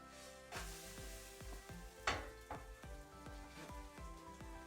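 A kimchi pancake sizzles quietly in a pan just after flipping, with a faint steady fry under a series of light clicking taps and one sharper knock.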